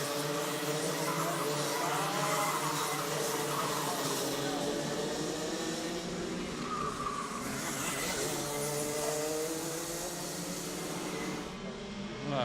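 Junior Max karts racing around a circuit, a steady dense engine drone filling the whole stretch with shifting pitch as karts pass, loud and continuous with a commentator talking over it.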